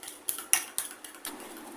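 A spoon or fork clinks against a bowl while egg is mixed with chilli powder and salt, with several sharp, irregular taps close by and no talk.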